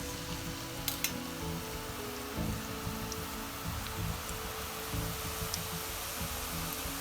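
Spicy karam pusa dough sizzles in hot oil, a steady close-up crackle and hiss with scattered sharp pops, continuous and even throughout.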